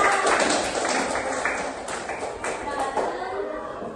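Classroom clapping for a pupil, a short burst of several hands patting unevenly, fairly close, with faint voices mixed in.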